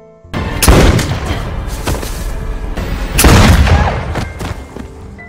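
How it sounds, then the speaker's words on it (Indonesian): Pistol gunshots in the 2019 thriller film Secret Obsession: four loud, booming shots spaced roughly a second apart, each followed by a reverberant tail. "Jennifer yang sudah memegang pistol Rian akhirnya terpaksa menembak Rian hingga Rian pun tewas"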